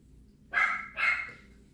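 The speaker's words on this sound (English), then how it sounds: "You might hear my dog barking." Two sharp dog barks in quick succession, fairly close, against a quiet background.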